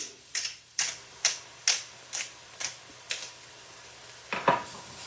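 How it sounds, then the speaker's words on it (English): A pepper grinder cranking over a skillet of eggs for tortilla de patatas, about ten crisp, evenly spaced grinding clicks, close and clear with no talk. "I'm going to grind some pepper in here."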